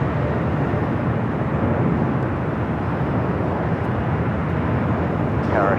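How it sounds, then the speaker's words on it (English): An Air Tahiti Nui Boeing 787 Dreamliner departs Los Angeles airport bound for Papeete, its broad steady jet roar loud and continuous throughout, with a faint voice surfacing near the end. "Air Tahiti Nui, the Dreamliner heading to Papeete."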